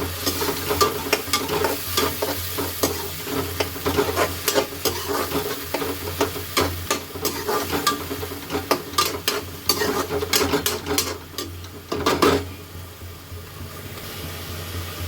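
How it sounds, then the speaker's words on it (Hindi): Chopped onions fry in a pan until light brown, a steady sizzle broken by repeated scraping stirs of a spoon, with a louder clatter near the end before the sizzle settles. "अब इसे हम हल्का ब्राउन होने तक भूनेंगे।"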